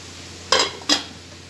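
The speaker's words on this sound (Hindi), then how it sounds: "इसको मिक्स करेंगे अच्छी तरह।" Two short scraping strokes of a spoon mixing colourful sweet rice (deghi matanjen) in a pot, close and fairly quiet, about a third of a second apart, with near silence between and after.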